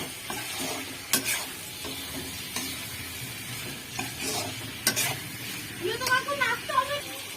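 Fried pointed gourd and potato pieces are stirred into spices in a pan, with repeated scraping strokes over a low sizzle that quickens toward the end, where a voice is heard.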